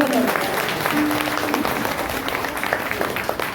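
Audience clapping at a gathering celebrating Sri Sri Ravi Shankar's birthday, a steady moderate burst of applause with voices talking over it.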